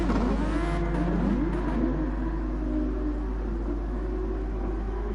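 A Super Formula race car in a sim racing game at the Red Bull Ring gives a steady, loud engine drone with a slight rising whine. It holds without a break and no voices are heard.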